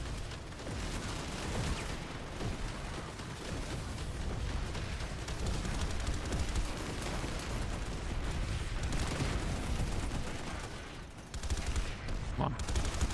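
Rapid gunfire in a shooter video game, a sustained barrage of shots and bursts that runs almost continuously, with a brief dip near the end before firing resumes.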